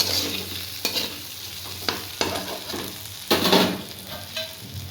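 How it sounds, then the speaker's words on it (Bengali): Aloo posto bhindi (potato and okra with poppy seeds) fries in a pan, a steady close sizzle broken by several sharp scrapes and clacks of a spatula stirring, with no talking. "আবারও এটাকে নাড়াচাড়া করে 1 মিনিটের জন্য রেখে দিব।"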